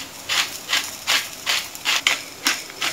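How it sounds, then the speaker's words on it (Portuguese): A hand grinder cracking salt over a creamy broccoli pasta sauce, seven evenly spaced gritty grinding twists in a steady rhythm, close and moderately loud with no talk. "Vou moer aqui, ó, o sal."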